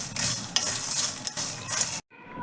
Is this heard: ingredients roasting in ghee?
yes